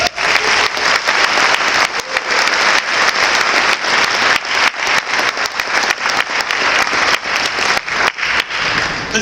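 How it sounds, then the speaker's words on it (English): A banquet audience at a Korean American Bar Association annual dinner applauds loudly, a close, dense and continuous burst of many hands clapping that holds strong throughout with no talk over it. "Let's give another round of applause"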